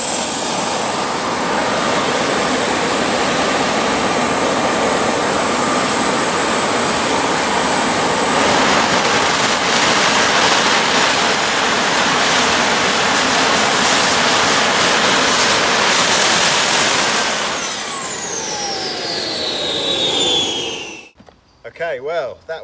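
Jet engine motorcycle running with its afterburner lit, a loud sustained roaring jet with a high whine that climbs, holds, then winds down before cutting off, close and dominant.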